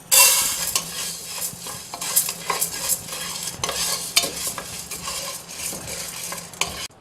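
Chana dal dry-roasting in a pan with constant stirring: close, rattling scrapes and grainy shuffles of lentils against metal, in uneven bursts over a faint hiss, with no voices.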